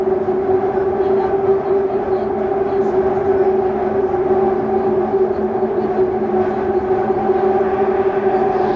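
London Underground trains of the Victoria and Northern lines roar loudly and steadily with a sustained tonal whine, a continuous close rumble of rail running.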